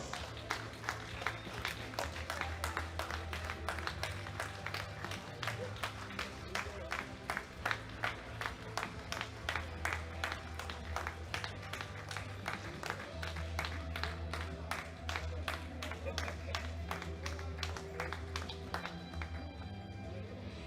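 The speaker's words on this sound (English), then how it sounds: "Give them a round of applause." Audience applause greets women's powerlifting medalists at a world classic championship, a steady dense patter of clapping lasting throughout with crowd noise and a voice talking over it.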